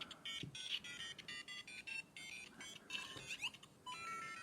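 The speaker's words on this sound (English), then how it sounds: "Starts playing the Mario music." A Lego Mario starter course toy plays its electronic Mario theme: bright, beeping chiptune notes in a steady melodic run, close and moderately loud, with no voices.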